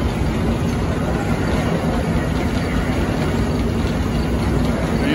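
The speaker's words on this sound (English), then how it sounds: "converts it to power shaft, the flywheel, they're running the thresher with it." An old engine at a pioneer power show drives a flywheel and power shaft running a threshing machine, a steady loud low mechanical rumble with constant whirring, heard close and continuous without speech.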